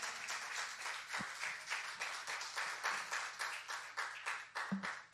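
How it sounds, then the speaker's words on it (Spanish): A church congregation claps in a fairly regular, pulsing rhythm, a sustained round of applause heard at moderate distance with no talk over it. "Give Him a round of applause."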